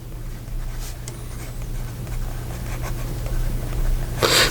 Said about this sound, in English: So here we go with the writing sample for the Birmingham